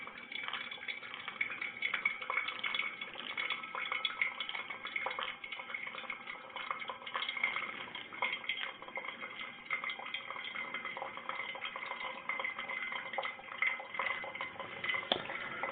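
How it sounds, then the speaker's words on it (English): Hot water poured slowly in a circle over coffee grounds in a metal Hario V60 dripper makes a faint, continuous soft trickle that lasts throughout. "Just going to pour real slow in a circular motion here."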